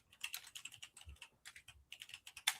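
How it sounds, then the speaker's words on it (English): Rapid, irregular clicks of fingers typing on a computer keyboard, close and fairly clear, continuing in short bursts with no talk over them. "He's typing."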